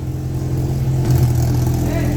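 A Peugeot 205 GTI race car engine running at high revs, a loud sustained mid-range drone that swells briefly, with a voice faintly present in the background.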